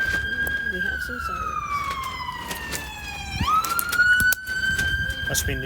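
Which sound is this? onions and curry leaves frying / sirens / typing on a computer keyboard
sirens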